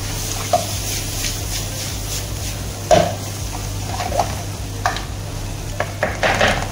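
Oil and black pepper being stirred in a pot, a soft background sizzle punctuated by scattered scrapes and clinks of the utensil against the pot, sharpest around the middle and near the end, with no talking.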